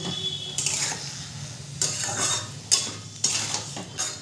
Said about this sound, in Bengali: নুনটা দিয়েও আমি ভালো করে মিশিয়ে নেব